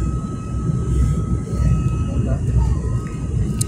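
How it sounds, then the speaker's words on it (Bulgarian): A passenger airplane on its landing approach to Sofia airport fills the cabin with a steady, loud engine and airflow roar, with a faint whine running through it and murmured voices beneath. "Тъчдаун, драги зрители, кацаме в София."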